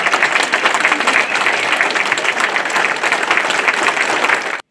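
Thunderous applause fills a hall at a democracy award ceremony, a dense, loud, steady wash of clapping from a large crowd that carries on without a break before cutting off abruptly.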